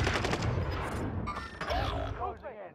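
Gunfire in Call of Duty: Modern Warfare: rapid bursts of close shots crackle through the first part, mixed with excited talking and clattering game noise that thins toward the end.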